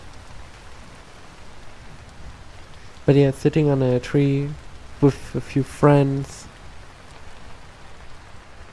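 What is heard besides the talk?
rain falling in the video game Vintage Story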